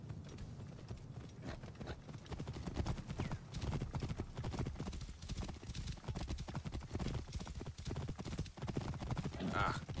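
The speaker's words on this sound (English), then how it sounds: "Get on your horse, dude." Horse hooves clip-clop at a steady galloping rhythm in the video game Assassin's Creed Origins, with low game ambience and faint voices underneath.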